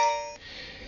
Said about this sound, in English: So that's the sound of the video recording coming into effect.